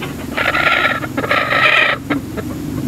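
A native hen clucks steadily in close, loud bursts while sitting on a clutch of 13 eggs, with short pauses between the rhythmic clucking phrases.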